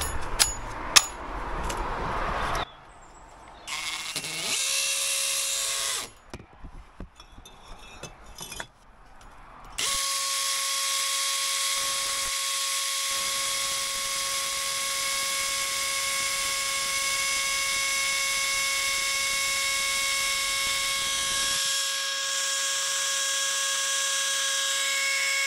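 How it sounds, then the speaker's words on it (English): A power drill fitted with sharp bits runs during a small extension build with a 150 mm cavity wall, giving a steady, close, whining drone for about ten seconds after some earlier scraping and handling noises. "get a couple of nice sharp drill bits"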